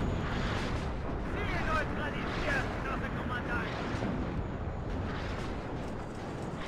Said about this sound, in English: Artillery comes in on that Challenger